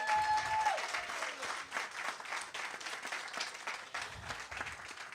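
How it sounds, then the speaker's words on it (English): An audience applauds at a community gathering near Jamestown Mall, a few seconds of scattered, moderately loud clapping with no voices over it. "give everybody a round of applause tonight"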